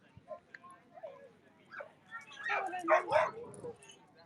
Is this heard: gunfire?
no